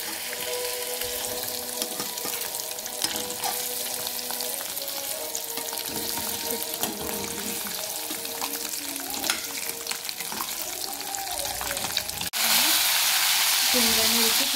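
Paneer cubes frying in hot oil for a Marathi-style paneer chilli, a steady close sizzle with stirring running throughout and a louder burst of hiss near the end.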